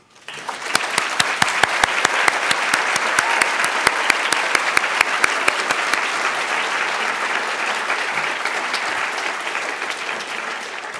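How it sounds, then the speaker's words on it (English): An audience at a literary awards reading at The New School applauds the staff, a dense, steady wash of clapping punctuated by a few sharp individual claps near the front, slowly thinning toward the end. "I wonder if we might applaud them all now"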